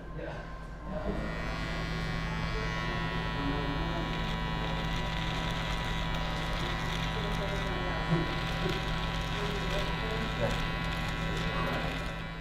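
Electric hair clippers fitted with a 1/4 inch guard cut straight down the side of a head, producing a steady, close, unbroken buzz throughout.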